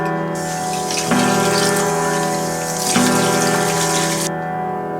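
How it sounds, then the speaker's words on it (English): Tap water runs steadily into a sink while a gerbil's feeding bowl and water bottle are washed, a loud close hiss with a low hum that shifts in pitch twice as the flow or the objects move. "Now you need to wash up the feeding bowl and the water bottle in a sink."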